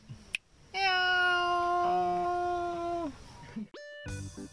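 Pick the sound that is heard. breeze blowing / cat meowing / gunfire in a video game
cat meowing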